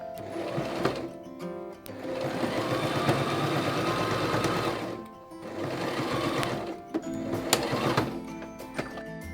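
A sewing machine stitches fabric puffy heart bunting in steady, close mechanical runs, three bursts of fast needle chatter separated by short stops.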